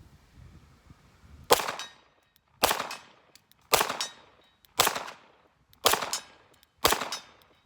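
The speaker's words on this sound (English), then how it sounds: "Let's do some shooting, shall we? We got the Ludus VIP." Six loud, sharp pistol shots from a Costa Ludus VIP handgun, evenly spaced about a second apart, each with a short ringing decay.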